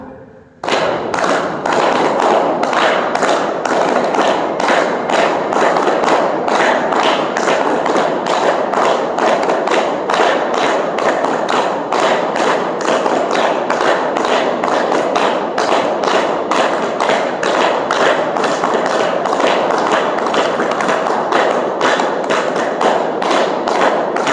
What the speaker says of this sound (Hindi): ताली एक साथ एक रिदम के साथ